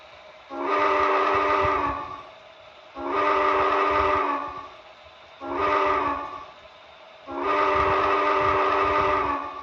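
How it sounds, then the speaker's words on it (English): A Broadway Limited Paragon 2 Southern Pacific GS4 HO scale model locomotive sounds its gate-crossing whistle pattern: four loud, close steam whistle blasts, long, long, short, long, with brief quiet gaps between. "F13 is a gate crossing, so the whistle is going to play like if it's about to go through a gate crossing"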